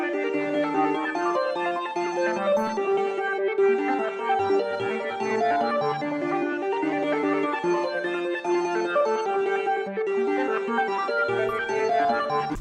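FL Studio beat built on a halftimed Lipton bell sample with the low end cut, a steady, bright, chiming melodic loop that plays continuously, with no voices.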